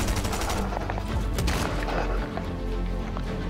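Rapid bursts of gunfire in the video game Fortnite, a dense clatter of shots in quick succession filling the mix.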